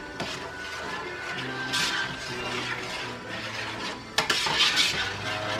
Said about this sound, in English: Let's give that a little stir here to mix it up.